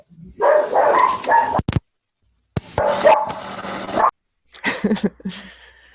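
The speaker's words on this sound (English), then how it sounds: "There's the dog." A dog barks loudly and close by in a quick cluster of barks, falls silent, then barks again, ending with higher yips and whimpers.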